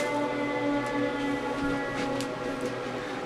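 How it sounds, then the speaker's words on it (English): Ambulance siren wailing steadily in the background throughout, a continuous sustained tone held under a quiet indoor setting. "don't mind the ambulance in the background"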